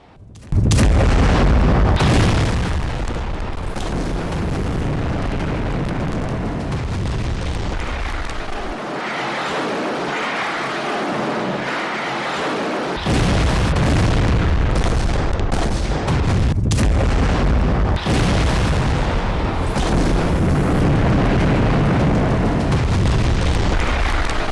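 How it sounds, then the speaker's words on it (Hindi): Continuous heavy roaring and rumbling from Israeli bomb and missile strikes on Gaza, loud and sustained with a brief drop in the low end midway and a renewed surge; no voices. "मिसाइल अटैक से इन ठिकानों को पल भर में नेस्ता नाबूद कर दिया गया।"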